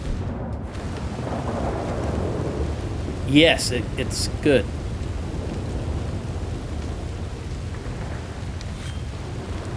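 A sudden thunderstorm rolls through Red Dead Redemption 2, steady rain hissing throughout with two brief cracks of nearby thunder in the middle, while someone speaks briefly over it.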